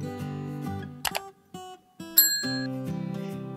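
A short electronic notification chime plays, with bright bell-like tones and a clicking ring in the middle, a close, clean jingle with brief gaps between its parts.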